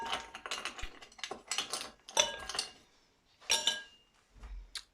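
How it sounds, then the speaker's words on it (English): Ice cubes dropped into a glass of homemade lime juice, a quick run of hard clinks and rattles in uneven bursts, close and fairly quiet, with no talking. "Ice cubes."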